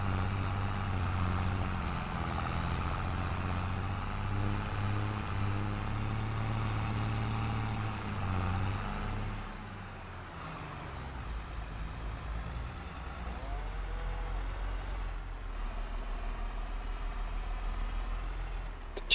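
A small tractor in the Purbeck Valley 17 farming game drives along with a steady, fairly loud low engine drone, easing off briefly midway before the rumble picks back up.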